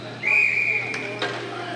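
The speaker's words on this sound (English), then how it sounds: "That's another whistle, another stop." A referee's whistle stops play at an amateur Texas ice hockey game, a single sharp shrill blast followed by rink noise and brief stick clatter.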